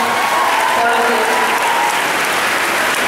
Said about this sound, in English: So please give a round of applause for all of you.